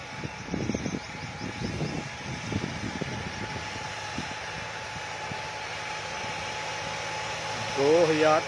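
John Deere 5210 Gear Pro tractor, a 50 HP machine pulling a 15-tine cultivator, its engine running with a steady low hum under a voice, noise rising briefly near the end.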